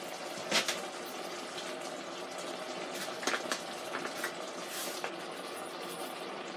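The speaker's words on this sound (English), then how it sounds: "I'm going to add some water." Water pours into an Instant Pot Duo Mini holding chili, a steady splashing fill with a few sharper gurgles, close and fairly soft.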